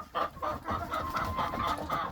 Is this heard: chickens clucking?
yes